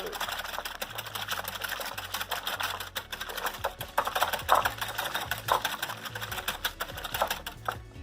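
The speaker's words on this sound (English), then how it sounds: "I could have put a towel or something underneath to alleviate some of that rattling, sliding, the bowl sliding around" Electric mixer running with the mixing bowl rattling and sliding on the counter, a dense rapid clatter with a low motor hum underneath, close and continuous, swelling slightly midway.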